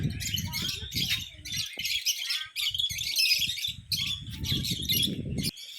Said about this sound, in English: Parrot. More parrots.